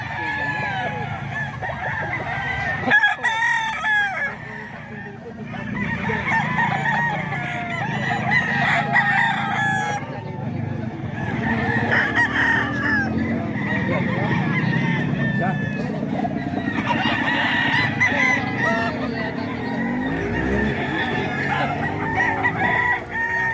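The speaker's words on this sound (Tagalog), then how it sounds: "kita natin daming manok dito." A crowded poultry area full of chickens and roosters, including White Kelso gamefowl, with loud clucking and repeated rooster crows throughout, mixed with nearby people talking and background chatter.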